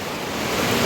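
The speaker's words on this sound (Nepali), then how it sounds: "पानी परिरहेछ बाहिर" Steady rain falling outdoors, a dense, even wash of broadband noise that holds throughout and swells slightly toward the end, with no voices.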